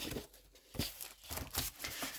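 Papers from a convention welcome pack being handled: soft crinkling and rustling sheets, close and fairly quiet, with a few sharper tearing-like rustles.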